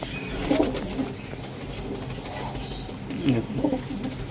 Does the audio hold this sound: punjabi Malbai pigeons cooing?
yes